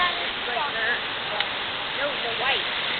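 A waterfall on the Delaware River in Pennsylvania gives off a continuous, even rushing roar close by, while people talk over the steady water noise.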